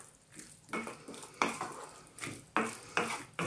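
Potato curry (aloo masala) stirred in a pan with fresh coriander, a spoon scraping and clinking in repeated rhythmic strokes over a faint sizzle, close and fairly quiet, no voices.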